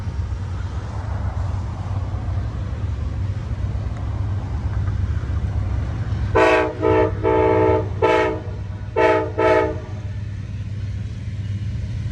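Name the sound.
passenger train passing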